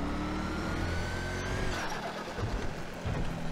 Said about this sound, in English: That engine sound, that V8 engine sound, sounds amazing.